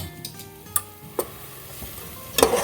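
Chicken curry masala with yogurt, ginger and onion sautés in a pan, a soft sizzle beneath a few sharp clacks of a spoon against the pan, close and short.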